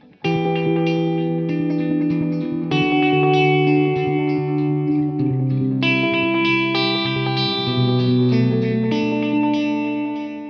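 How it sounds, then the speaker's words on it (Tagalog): An electric guitar played through the glitch delay on a Line 6 POD GO processor rings out sustained chords whose repeats stutter and shift in patterned divisions, heavily effected and reverberant, with no talking. "Glitch delay, napakaganda na nito."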